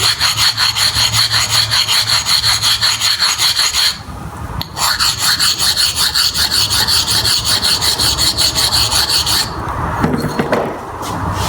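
A steel chisel rubbed back and forth on an old oil stone, a steady rasping scrape repeating in quick even strokes, close and loud, with short pauses around four and ten seconds.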